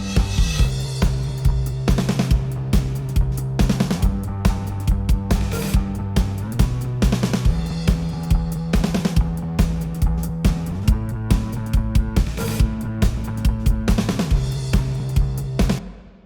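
Drum kit with a tube-distorted bass line in a full music mix, steady punchy hits repeating in a driving groove while the distorted bass holds sustained notes underneath, loud and continuous throughout.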